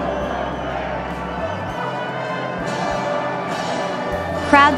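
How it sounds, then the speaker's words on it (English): Crowds along Edinburgh's Royal Mile cheer a coronation people's procession with a continuous mass of distant shouts and applause, joined by ringing, tonal band-like sounds and a brief bright burst near the end. "Crowds gathered on the famous Royal Mile in Edinburgh to cheer a people's procession"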